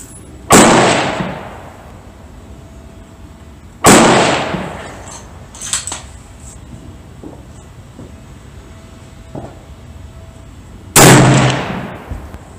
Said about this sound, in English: Okay, second shot with muzzle brake off.